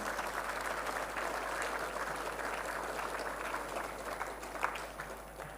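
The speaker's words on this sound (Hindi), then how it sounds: "हम जोरदार ताली के द्वारा स्वागत करें।" A gathering at a diocesan welcome event applauds to greet the youth, a continuous moderate wash of clapping heard a little distantly, with a single sharper clap near the end.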